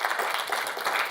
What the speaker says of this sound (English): let's hear a round of applause for Matthew from Ethbits